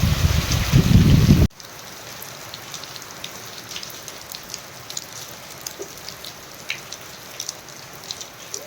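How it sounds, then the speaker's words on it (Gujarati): A loud burst of heavy rain roars briefly, then drops to a softer steady patter with scattered individual drops hitting a surface. "આજ મસ્તીનો વરસાદ આવ્યો"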